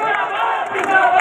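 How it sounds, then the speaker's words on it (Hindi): A dense crowd at an outdoor farmers' political rally roars and cheers loudly and continuously, a mass of voices shouting together with no single speaker standing out. "जोरदार तालियां"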